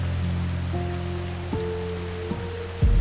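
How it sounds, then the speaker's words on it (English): Steady rain falling in a dense, even hiss on surfaces, with low sustained tones drifting beneath and a soft thump near the end; no voices. "The rain slowed."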